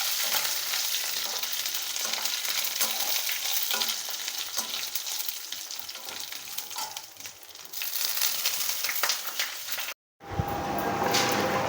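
Curry leaves frying in hot tempering oil for a lady's finger fry, a loud continuous crackling sizzle that runs steadily, then briefly cuts out before resuming.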